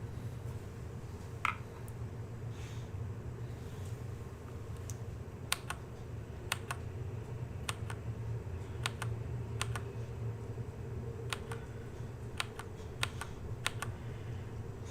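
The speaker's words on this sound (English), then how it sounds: "Look, my loud ass keyboard." Loud computer keyboard typing, a scattered run of sharp, close key clicks in irregular bursts over a low steady background hum.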